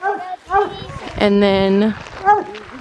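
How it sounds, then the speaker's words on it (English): A dog near the microphone gives a drawn-out, whining bark among shorter yelps, while a person talks around it. "sorry for the barking"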